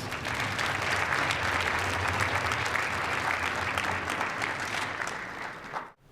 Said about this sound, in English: Let's give Attorney Reeves a round of applause.